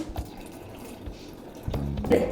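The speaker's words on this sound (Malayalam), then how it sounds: "ഇനി ഒരു ഗ്ലാസ് നമുക്ക് വെള്ളം കൂടി ഒന്ന് ആഡ് ചെയ്യാം." A glass of water is poured into tomato and tamarind rasam, with a few soft drips followed by a brief, louder close splash at the end.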